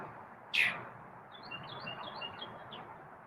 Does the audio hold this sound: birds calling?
yes